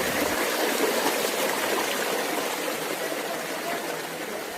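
A waterfall with only a little water running, at Gohram Ghat in Rajasthan, gives a steady, close rushing splash of flowing water that continues evenly throughout with no voices.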